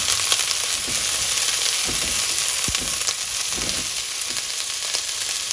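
Mixed colored bell peppers and other vegetables sautéing in a pan for a sweet and sour prawns dish, a dense, even hiss with a few faint stirring clicks throughout.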